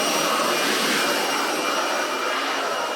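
Air conditioning units are being cleaned in a home in rural Thailand, giving a loud, close, steady rushing hiss like a blower or pressure spray that runs unbroken the whole time without talk.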